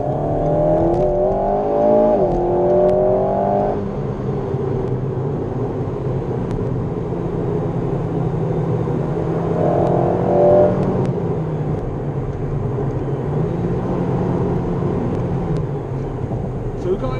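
Alpine A110 sports cars, including the GT version, run in convoy on a lap, their engines droning steadily with rising and falling rev sweeps, loud and near, with faint voices underneath.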